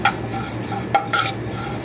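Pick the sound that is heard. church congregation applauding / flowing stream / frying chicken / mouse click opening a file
frying chicken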